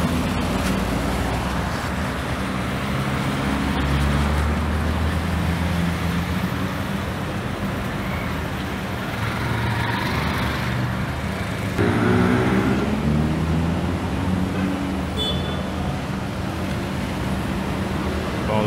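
Traffic rumble at a road bus station in Governador Valadares, Minas Gerais, in the morning, with a steady low engine drone of a departing bus and passing vehicles, loud and continuous with faint distant voices.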